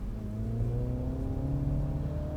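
A 2021 Mini JCW Hardtop hot hatch accelerating from the cabin, its engine drone climbing steadily in pitch, loud and continuous with no talking over it.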